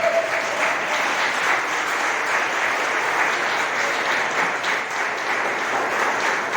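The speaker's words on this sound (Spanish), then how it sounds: "Denle un aplauso al Señor." Church congregation applauding steadily, a dense, even wash of many hands clapping that holds for several seconds with no speech over it.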